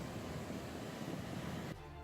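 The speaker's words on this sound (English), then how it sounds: "Look at those waves." Ocean waves wash steadily against a rocky Newfoundland shoreline, a continuous broadband roar of surf that drops away abruptly near the end.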